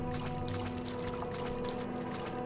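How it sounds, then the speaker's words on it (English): Squishy, splashing footsteps run through shallow sewer water in the video game Nox, a steady wet patter over a constant watery background hum, with no talking. "all that squishy sound as we're running through the water"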